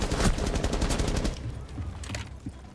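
Rapid video-game gunfire crackles loud and close in a dense burst, then thins into scattered shots and rumbling echoes.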